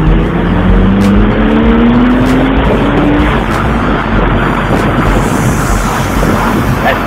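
A Porsche sports car accelerates hard, its engine roaring loud and close as the revs climb in a rising whine over several seconds, with heavy wind buffeting on the microphone and no speech.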